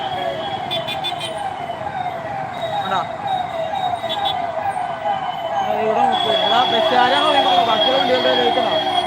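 An ambulance siren wails, rising and falling over steady traffic rumble, growing louder and more layered partway through, with a faint voice nearby.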